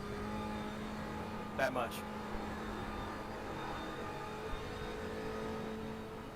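Simulated race car engine from iRacing at Bathurst droning steadily throughout, with brief bursts of clatter midway and someone talking briefly over it.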